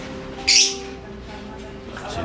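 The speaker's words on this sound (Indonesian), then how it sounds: "Burung-burung." A bird gives one short, bright chirp early on, heard over a quiet outdoor background with a faint low hum.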